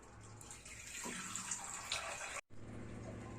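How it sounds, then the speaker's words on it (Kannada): Water is added to a thick buttermilk curry (majjige saaru) in a pot, heard as a faint, close, steady pouring splash that runs for a few seconds, then stops abruptly and is followed by a quieter low rumble. "ಇದು ಗಟ್ಟಿ ಇರೋದ್ರಿಂದ ನಾನು ನೀರು ಹಾಕ್ತಾ ಇದ್ದೀನಿ."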